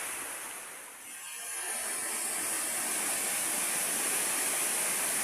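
A river in the Philippine countryside spills down into a deep swimming spot below, a steady broadband rush of falling water that swells after a brief dip and then holds loud and continuous, close by with no voices.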